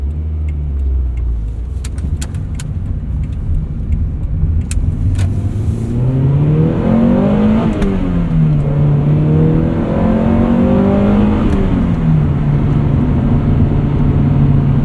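A 1999 Honda Prelude Type SH with a five-speed manual revs hard into VTEC, the engine note climbing loudly through the gears, dipping at shifts and rising again, heard from inside the car without talk.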